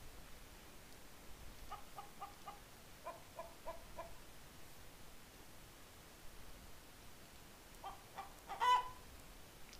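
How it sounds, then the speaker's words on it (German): Colorful chickens in Minecraft cluck in faint, short rhythmic bursts of three or four, near and then farther, over a soft background hiss, with one louder cluck near the end. "Hier bunte Hühner."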